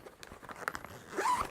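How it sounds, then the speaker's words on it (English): A backpack zipper, on a bag holding a 15-inch laptop, is tugged in short scraping bursts that stick, then runs in a longer rasping pull near the end, close and fairly quiet. "Oh, we got a little problem with the zipper here."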